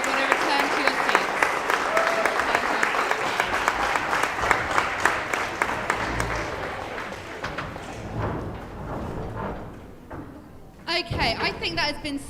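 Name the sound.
applause for debate team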